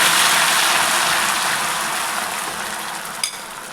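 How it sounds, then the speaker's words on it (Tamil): Soft, steady hiss and scraping of a semolina and milk mixture being stirred in a pan for Rajasthani makhandi halwa, continuous and close with a small clink near the end. "கொஞ்சம் கொஞ்சமாக சேர்த்துட்டு கட்டி இல்லாமல் கிளறி விட்டுக்கினே இருங்க"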